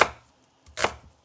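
A knife chops onions on a board for a chicken noodle stir fry, two crisp, close cuts about a second apart with quiet between them.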